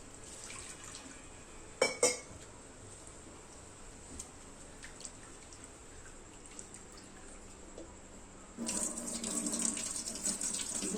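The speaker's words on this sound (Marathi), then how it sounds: "दोन पाण्याने छान धुवून घेतले तांदूळ." Running water from a tap pours steadily while rice is rinsed in a kitchen for masala bhat, a sharp clatter near the start and a louder, fuller rush of water toward the end.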